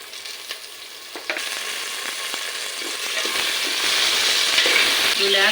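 Cashews, carrots, green peas and tomato sizzle and fry steadily in a pan, a close, continuous crackle that grows slightly louder as it goes, with a few stirring scrapes and no talking.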